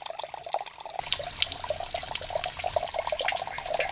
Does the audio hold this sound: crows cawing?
no